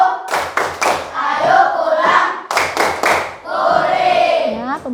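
A school class does a rhythmic clap routine: sharp bursts of unison hand claps alternate with the children's chanting voices. The pattern repeats twice, loud and close.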